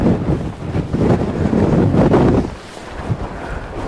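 Strong gusts roar and buffet the microphone on an exposed fell summit near Loft Crag and Pike of Stickle, loud and continuous before briefly dropping.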